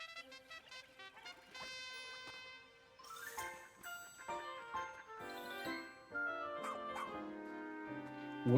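A dog in the Pikmin 4 video game gives a run of short yips and whimpering barks over light chiming game music, moderately loud and close.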